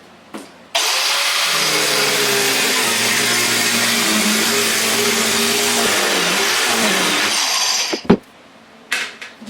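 A wet saw cutting ceramic tile in place with water running starts abruptly. It holds a loud, harsh, continuous grinding whine for about seven seconds, then cuts off, followed by a few brief clatters.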